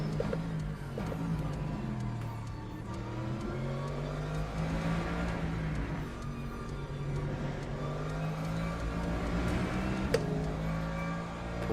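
GT3 race car engines in the Le Mans Ultimate racing game drone and rise steadily together, several cars audible at once with continuous revving and gear-change sweeps, loud and unbroken throughout.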